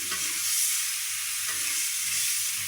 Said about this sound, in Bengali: এখন কি যা যায় এর মধ্যে মাছ দিয়ে দিলাম দুই পিস